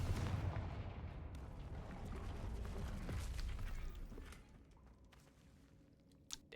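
A Confringo blasting spell in Hogwarts Legacy erupts with a heavy, rumbling explosive burst that roars and then fades over several seconds, with creaking debris and a sharp crack near the end.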